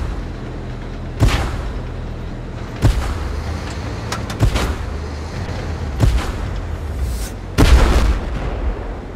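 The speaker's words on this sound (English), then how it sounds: "Under gunfire!" Heavy tank cannon fire in the video game Tank Force: six booming shots at irregular intervals, each a sharp crack with a low rumbling tail over a steady engine-like drone, the last blast the loudest.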